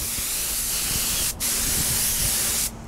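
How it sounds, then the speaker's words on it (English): Clear coat sprayed over decals on Honda NS250R motorcycle parts outdoors, a loud steady aerosol hiss in two long bursts separated by a brief pause, with no talking. "We're coming up on the final coat of clear on these parts."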